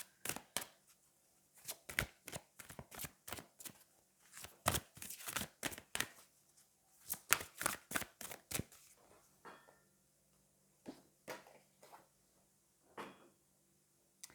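Angel oracle cards are shuffled close up in quick, soft bursts of riffling and tapping, with short pauses between runs, all fairly quiet and without talk.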